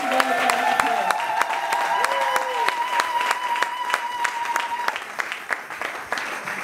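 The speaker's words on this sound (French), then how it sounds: "Nous voulons saluer avec nos acclamations." Church congregation clapping and cheering in acclamation during a prophetic gathering, a dense continuous wash of applause with sharp rhythmic claps standing out, while a voice calls out over it.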